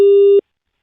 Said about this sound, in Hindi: मैं रख रहा हूँ फोन